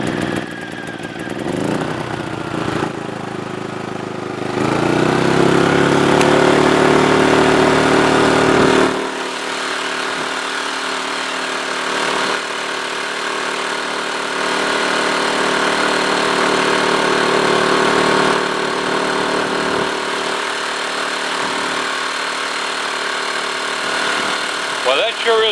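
A Tacklife inverter generator runs continuously nearby with a steady engine drone that swells louder for a few seconds, then settles into a lower, even hum.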